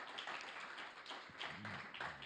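A church congregation applauds during a sermon, a dense and quiet patter of many hands clapping, steady through the moment, with a faint voice briefly rising beneath it.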